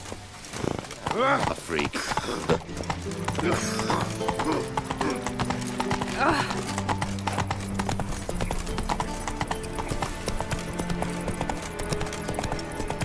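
Roach the horse galloping in The Witcher 3 video game, rhythmic hoof clip-clop running steadily with a neigh near the start, under game music and a person talking.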